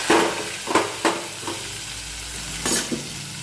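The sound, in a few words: bottle gourd added to hot oil, frying and stirring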